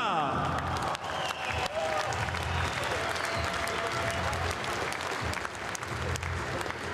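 A crowd at an RCC6 mixed martial arts event applauds a fighter after the bout, sustained dense clapping filling the arena with murmuring and occasional cheers underneath.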